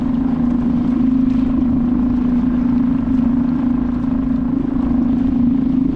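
Small outboard motor mounted on a fishing kayak running steadily offshore, a loud constant droning hum with wind buffeting the microphone and no talking.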